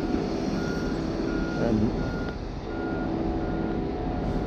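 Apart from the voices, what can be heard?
concrete truck reversing with beeps, pulling up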